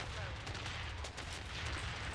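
Gunfire in the Blood Strike shooter game, a dense ongoing burst of shots and crackling reports with steady loud rumble throughout, no clear gaps between rounds.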